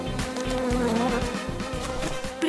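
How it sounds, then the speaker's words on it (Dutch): A fly buzzes loud and close, a continuous droning hum with slight wavering pitch that fills the whole clip, no voices over it. "Oh, vlieg, je bent terug."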